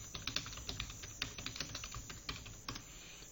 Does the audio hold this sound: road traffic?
no